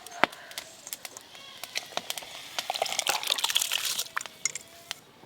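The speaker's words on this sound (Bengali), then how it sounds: "জল ফুটে গেছে, এই যে চাল আমি ধুয়ে রেখেছিলাম দিয়ে দেবো।" Washed rice is poured into a pot of boiling water in a home kitchen, giving a close, crackly rush and splash that builds in the middle and tapers off, with scattered clicks around it.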